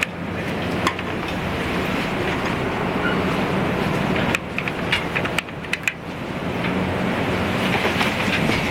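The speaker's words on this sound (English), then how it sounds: "This wind is insane." Strong wind roars steadily across the microphone outdoors, a dense continuous rush broken by brief gust buffets and clicks, loud and unbroken for several seconds with no voices.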